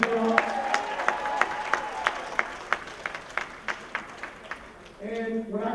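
Audience applause at a summer 2012 conference: a run of sharp, evenly spaced hand claps that fades out before a voice and crowd noise rise at the end.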